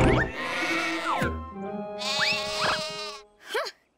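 Cartoon sheep bleat in a children's animated train show, several wavering, bleating calls in quick succession, loud and close, with a shorter bleat closing it out.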